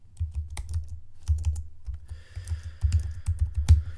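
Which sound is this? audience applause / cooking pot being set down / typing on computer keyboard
typing on computer keyboard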